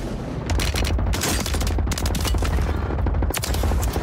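Rapid pistol gunfire in Warzone 3, loud, close and nearly continuous with brief pauses, a dense string of sharp cracking shots.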